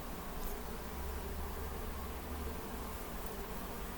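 Honey bees buzz in a dense, continuous hum from an open hive with frames full of bees, steady and close throughout, with no talk.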